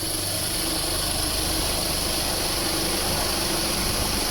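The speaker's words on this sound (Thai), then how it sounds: "พัดลมทำงานสปีดหนึ่งอยู่นะ" A steady low mechanical whir from a fan running continuously, with constant hum and faint engine-like drone throughout.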